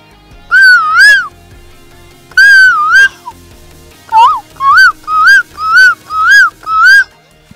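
A child imitates a cuckoo call with the voice, giving a close, loud whistled two-note phrase, a repeat, then a rapid run of five short matching calls in steady rhythm.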